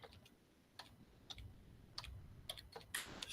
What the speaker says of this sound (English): But I'm typing a comment in Rumble right now.